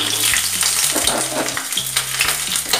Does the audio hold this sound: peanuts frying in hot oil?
yes